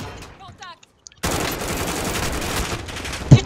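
Loud, dense automatic gunfire in a Warzone match bursts in after a quiet opening with faint game sounds, then rattles on continuously to the end with a sharp hit near the close.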